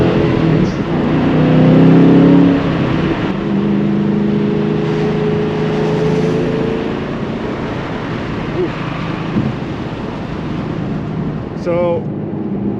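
A 2014 Ford Mustang Shelby GT500 with a manual transmission accelerates loudly from inside the cabin, the engine note climbing and then settling into a steady roar with wind noise, followed by a brief exclamation.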